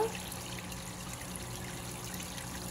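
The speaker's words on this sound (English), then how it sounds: "She's so close to running water." Running water trickles in a soft, steady stream with a constant faint splashing and no break. It sounds fairly quiet and close, with no voices.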